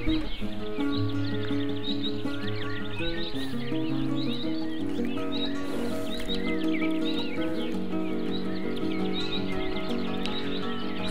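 Horse whinnies in the video game Mein Pferd, mixed with steady background game music and faint hoof clip-clop, continuing at an even level throughout with no speech over it.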